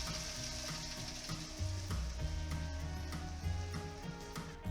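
Onion halves cooking down in a pan for a Biscay cod stew, giving a steady, fairly quiet sizzle with faint ticking and crackling throughout, heard alone.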